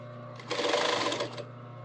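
A sewing machine runs a short burst of stitching on a kilt pocket, a close, steady mechanical whir of about a second rising over a low motor hum and then stopping.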